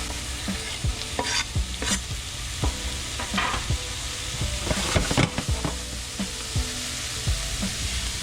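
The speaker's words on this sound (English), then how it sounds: "And now I'm gonna add the tomatoes." Tomatoes go into a hot pot of caramelized aromatics and cilantro and are stirred, giving a steady close sizzle broken by repeated scraping strokes of a spoon against the pot, with no talking.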